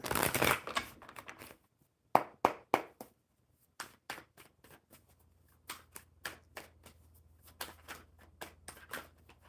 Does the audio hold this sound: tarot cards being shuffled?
yes